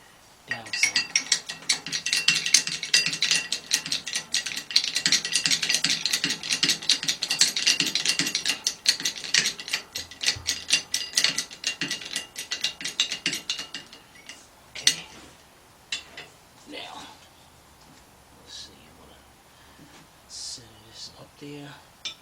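A socket ratchet clicks rapidly and steadily up close while tightening a fastener on a Ford Fiesta engine during head gasket and timing belt work, then stops, followed by scattered metallic clinks and someone talking.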